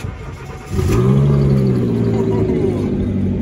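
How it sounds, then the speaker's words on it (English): A car with a five-speed and 131,000 miles cold starts: a short crank, then the engine catches and settles into a loud, steady idle close by. "Listen to this cold start."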